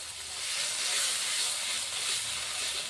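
Shrimp fry with mustard in a pan for a bottle gourd leaf dish, giving off a steady, loud, broadband sizzle that hisses without a break throughout.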